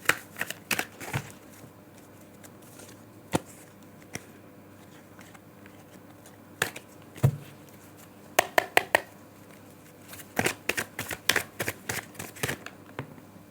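Tarot cards are shuffled and riffled by hand close up, in irregular bursts of quick soft flicks and taps separated by quieter pauses, with no talking.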